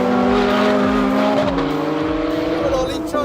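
A Porsche 911 GT3 RS racing on a track, its engine loud and close with sliding pitch as it shifts and accelerates, tires squealing through a corner, with someone talking over it.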